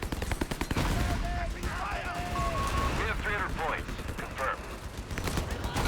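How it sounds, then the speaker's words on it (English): 75mm M3 artillery barrage in Company of Heroes 3, a rolling series of booming shell impacts mixed with crackling small-arms fire, dense and continuous over a noisy battlefield bed with game sound effects layered on top. "Finally getting on board with the barrages. But I feel like these are the first 75mm M3 barrages we've seen the whole game."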